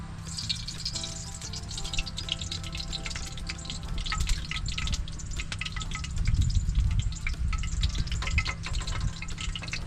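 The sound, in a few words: eggplant frying in a pan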